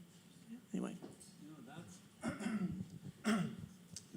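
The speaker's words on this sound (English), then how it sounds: "I think that's why I have a nervous cough, as you see" A woman gives a few short nervous coughs and throat-clears, three distinct close bursts spaced about a second apart, amid quiet room tone and some speech.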